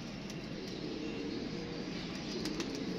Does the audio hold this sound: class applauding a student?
no